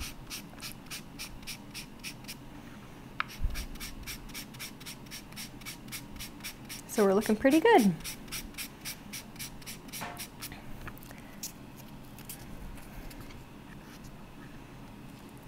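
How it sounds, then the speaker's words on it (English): Rhythmic rubbing strokes of a microfine sanding pad over a mixed metal clay pendant of bronze and copper clay, soft and close, with a brief louder scrub midway and a person speaking. "just kind of going over the entire piece with this microfine sanding pad"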